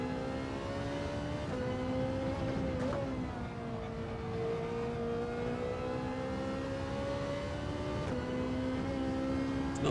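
Engine of a car in a racing video game chasing a Ferrari, a steady loud droning whine that rises and dips with gear changes and throttle, continuous throughout with no talk.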